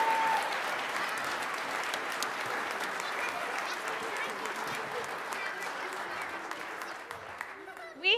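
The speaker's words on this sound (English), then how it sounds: "One more round of applause." Sustained applause from the congregation at a church Christmas pageant, a steady dense wash of clapping that holds for several seconds before fading, with a brief sound at the very end.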